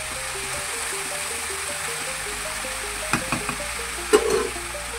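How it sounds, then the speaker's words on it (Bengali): Turmeric and salt are stirred into a frying Bengali fish curry, giving a low, steady sizzle in the pan. A few sharp spoon scrapes and clinks stand out near the end. "এবার নাড়াতে থাকবে। হলুদ আর নুনটা ভালো করে মিশিয়ে।"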